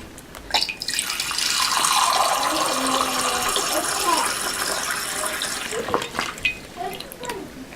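Water squeezed from a hydration bladder through an open valve with the bite valve removed gushes in a strong, steady stream for several seconds, then dwindles into a few splashes and drips.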